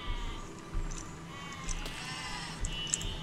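Faint sheep bleats from the video game Besiege, a few short cries scattered over a low steady background hum.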